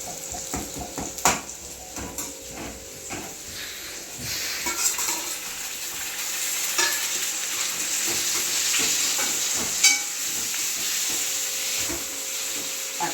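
Tomatoes go into a pan of softened onions for a liver gravy and fry with a steady sizzle. Utensils clatter and scrape against the pan throughout, the frying hiss swelling louder toward the end.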